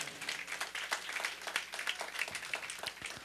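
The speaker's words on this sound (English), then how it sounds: "Can we give her a round of applause?" Church congregation clapping, a quiet, fairly dense patter of many hands heard at a distance, steady throughout.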